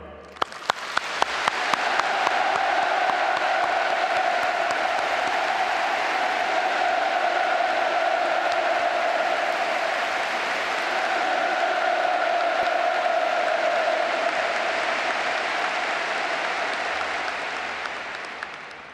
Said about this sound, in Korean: 아낌없는 찬사와 박수를 보냅니다